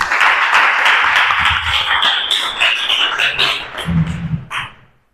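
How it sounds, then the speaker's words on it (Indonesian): Classroom of students clapping together, a burst of fairly close applause that thins into scattered claps and chatter before fading out. "Oke, tepuk tangan untuk kalian semua."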